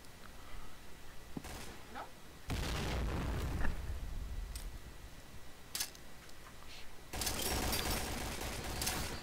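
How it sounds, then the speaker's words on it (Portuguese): Grenade blasts in the video game Point Blank during a championship match: several sharp bursts and pops rise out of quiet background game sounds, the loudest at the start and again near the end. "O Luke fez granada ali na A"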